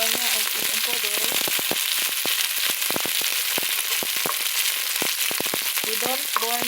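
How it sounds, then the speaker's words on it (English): Garlic frying in a hot pan for a fresh okra stew, a steady bright sizzle with frequent sharp crackles and pops, close and loud throughout, with a few faint voice fragments underneath. "We don't burn the garlic here."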